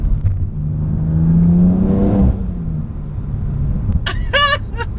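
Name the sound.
Manhart MH3 550 BMW M3 engine revving on downshift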